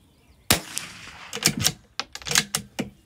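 Sharp, close rifle reports from SK Rifle Match ammunition ring out in an irregular string of about six shots with short mechanical clicks between them, each shot a crisp crack that decays fast.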